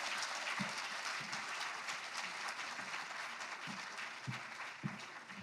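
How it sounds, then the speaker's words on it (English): An audience at a San Francisco public schools forum gives educators a long round of applause: steady crowd clapping with a few sharper, closer claps standing out, holding level throughout. "So can we give all the educators, everybody who have to do anything around San Francisco schools, a huge round of applause."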